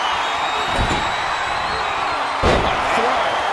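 A wrestler thrown down onto the ring mat in the WWE 2K24 video game, a deep reverberating slam near 0.8 seconds and a louder one around 2.5 seconds over a constant roar of arena crowd noise.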